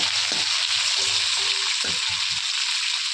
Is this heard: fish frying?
yes